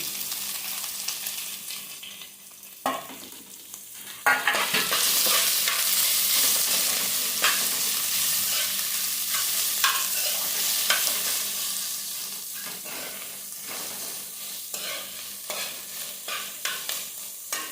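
Banana flower drops into hot tempering oil and sizzles steadily, with a spoon scraping and stirring through the frying pan for a long stretch.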